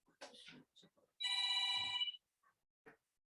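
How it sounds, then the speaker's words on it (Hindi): An old-style telephone bell gives one loud, sustained electric ring of about a second, preceded and followed by brief bits of nearby speech in an otherwise quiet room. "पुराने जमाने में इसी घंटी बजती थी फोन की"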